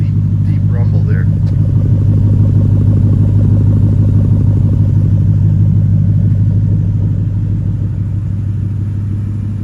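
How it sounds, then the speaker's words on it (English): A 2013 Ford Mustang GT with performance exhaust idles in a deep, steady rumble close by, loud and constant throughout with a slight fade near the end. "Nice rumble, nice deep rumble there."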